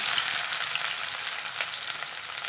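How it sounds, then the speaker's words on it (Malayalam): Onions and whole spices fry in coconut oil with a steady, close, hissing sizzle and faint crackles, alone with no talk. "കുറച്ച് വെളിച്ചെണ്ണ ഒഴിച്ച് കൊടുത്തിട്ടുണ്ട് രണ്ട് കഷ്ണം കറുകപ്പെട്ട തക്കോല ഒരു കഷ്ണം ഇട്ട് കൊടുക്കാം സബോള ഇട്ട് കൊടുക്കാം"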